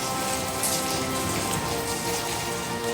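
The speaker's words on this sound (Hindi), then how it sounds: "गुरुवार को हुई झमाझम बारिश ने दिल्ली से लेकर बिहार तक के मौसम को खुशनुमा कर दिया है" Heavy monsoon rain pours down in the Parliament area of New Delhi, a steady, dense hiss of drops striking surfaces throughout, close and loud with no voices.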